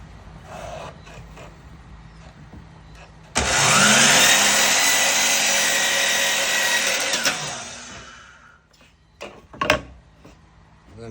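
A power saw cuts a 45-degree miter on a wooden corner piece for a knife block, a loud whining buzz starting abruptly and running about four seconds before spinning down, followed by a few clunks.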